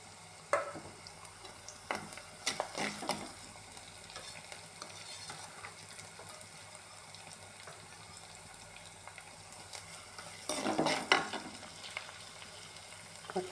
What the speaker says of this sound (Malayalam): ഇതിലേക്ക് വെളുത്തുള്ളി, ഇഞ്ചി, പച്ചമുളക് കൊണ്ട് ഇട്ട് കൊടുക്കാം.